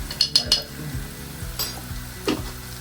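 Onions sauté with turmeric in a pan while a utensil stirs and scrapes, giving a few close metallic clinks over a soft, steady sizzle.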